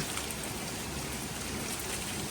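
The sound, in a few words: rain falling on freshly patched parking lot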